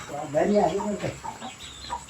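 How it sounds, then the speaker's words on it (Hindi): Chickens cluck and murmur close by, a short burst of busy clucking that trails off into scattered softer calls. "तो देखो भाई यहाँ है मुर्गे"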